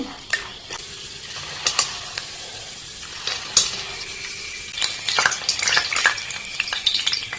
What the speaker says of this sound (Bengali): বাদামটাই না এরকম করে ভেজে নেব।